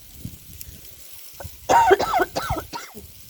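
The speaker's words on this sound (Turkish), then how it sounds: "Öksürek de gitmiyor hala." A cluster of several harsh, close coughs in quick succession, rising out of near silence.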